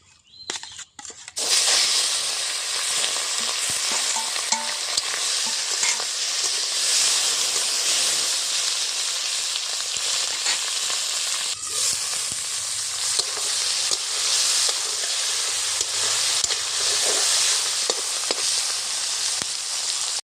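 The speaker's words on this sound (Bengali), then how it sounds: "আমি হাঁসের চর্বিগুলো থেকে তেল বের করে নেব" Duck fat rendering in a pan gives off a loud, dense, steady frying sizzle, close and continuous for the whole stretch, with scattered spatters and pops and a brief quieter dip partway through.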